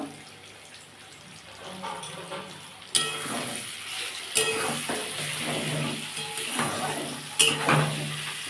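Chili powder is stirred into an olive pickle frying in a pan: a steady sizzle runs throughout, punctuated by sharper scraping strokes of the spoon against the pan, with no voices.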